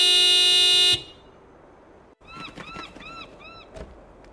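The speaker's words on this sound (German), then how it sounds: "Ja, dann hupen wir den ja jetzt nochmal raus." Vehicle horn of a van in the Baphomets Fluch 5 video game, one loud sustained blast that cuts off abruptly, then fainter bird-like chirps and clatter follow.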